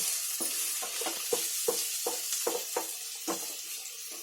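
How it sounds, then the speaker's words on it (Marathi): Mixed vegetables with spring onion and capsicum stir-fried in a pan, a steady bright sizzle with a spatula scraping and tossing in repeated regular strokes, close and alone. "हे सर्व भाज्या आहे ना चांगले फ्राय करून घ्यायचे."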